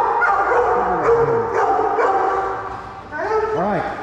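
A boxer and an Airedale puppy bark, yip and whimper close by, with several sharp barks followed by rising and falling whines, while a person talks over the dogs.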